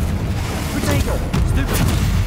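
Incendio and Confringo spell blasts in Hogwarts Legacy go off as loud, dense booming bursts and crackling impacts that rumble continuously, with a voice shouting over them.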